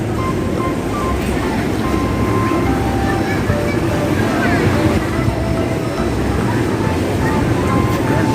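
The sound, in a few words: sea waves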